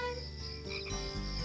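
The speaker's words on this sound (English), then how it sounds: "You can hear the crickets call." Crickets chirp in a nighttime setting, a thin, steady insect trill running under soft background music, close and continuous with no talking.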